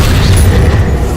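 A Confringo spell explosion in the video game Hogwarts Legacy booms deep and loud, a sustained low rumble lasting about a second with no pause.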